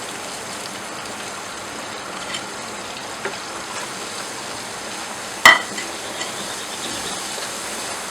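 Tomato and onion paste with spices frying in oil for Punjabi dhaba-style rajma masala gives a faint, steady sizzle, with one brief sharp clink partway through.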